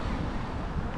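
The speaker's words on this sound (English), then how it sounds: "a little bit cold and windy as you can hear right now" Steady low rumbling wind in a park buffets the microphone, a dense, constant roar with no other sounds standing out.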